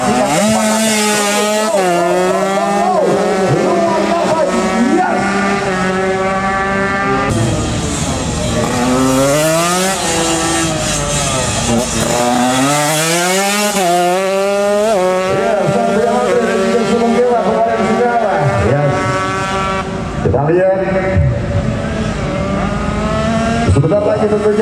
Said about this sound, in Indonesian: Dan kita akan merasakan getaran mesin akan dipacu dengan kecepatan tinggi saat bendera hijau dilambaikan